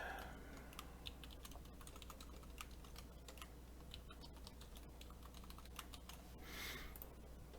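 Quiet, rapid keystrokes on a computer keyboard clatter in irregular bursts while a password is typed during setup of a Synology DS1621+ NAS, over a low steady hum.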